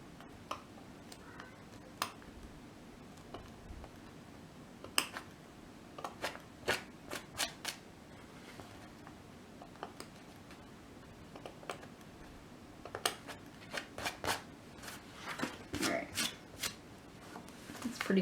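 Scissors snip through plush fabric near a basting stitch in small irregular bursts of crisp close clicks, separated by quiet pauses.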